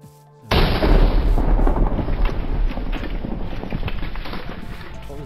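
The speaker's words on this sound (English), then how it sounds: "Sounded like a big explosion." In Minecraft, a sudden loud explosion booms and rolls into a long, rumbling roar that slowly fades, with no voices.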